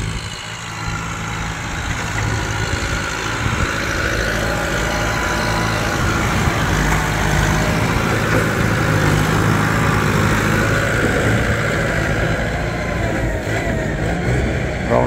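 The turbocharged diesel engine of an M108s farm tractor runs steadily while working dirt, a loud continuous rumble with a hissing turbo whistle above it, swelling slightly in the middle before easing.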